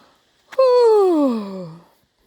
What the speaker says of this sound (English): Mommy yawn sound.